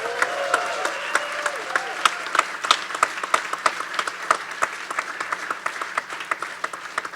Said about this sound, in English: Can I get a huge round of applause for our sponsors?